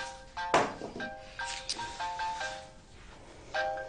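A phone rings indoors with an incoming call, repeated electronic tones in short bursts, moderately loud, with a brief thump near the start and a quiet room between rings.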